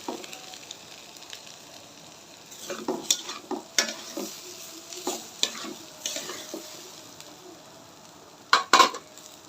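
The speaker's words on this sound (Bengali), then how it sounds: "খিচুড়িটা ভালো করে ডাইলা চাইলটা কষিয়ে নিবি" Lentils and rice fry and get stirred for khichuri, a steady sizzle under repeated scraping strokes of a spoon against the pot, ending in a couple of louder clanks near the end.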